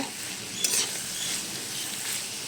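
Carrot chutney with curry leaves frying in a pan gives a steady, close sizzle, with a brief clink of stirring near the start and no talking.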